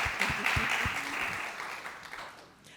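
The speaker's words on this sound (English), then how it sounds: "Round of applause." Audience applause at a leaders' fireside chat on women in construction, a dense steady clatter of many hands that holds briefly, then thins and fades toward the end.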